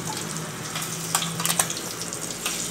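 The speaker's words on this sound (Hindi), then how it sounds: "अब पहले हम अंडा फ्राई कर लेते हैं थोड़ा सा" An egg fries in hot oil in a pan for a desi aloo-anda curry, giving a steady close sizzle with a few brief sharper crackles and spatters partway through.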